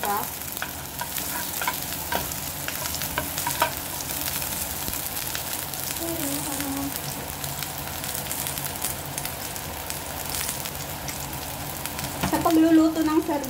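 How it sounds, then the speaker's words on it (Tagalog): Sardines fry in a pan with a continuous close sizzle and crackle, spoon scrapes and stirring strokes throughout, and a louder burst of sizzling near the end; a voice speaks faintly under the cooking. "mas gusto ko na iginigisa yung sardinas muna"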